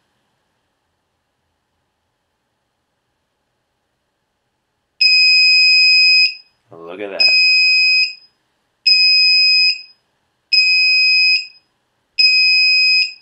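A KK2 flight controller's low-voltage alarm sounds loud, piercing repeated beeps in a steady on-off rhythm, echoing indoors, with a brief spoken remark between the first beeps.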